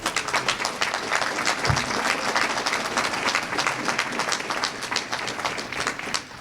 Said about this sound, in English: So I'd like you to give you a round of applause for all the work you've done.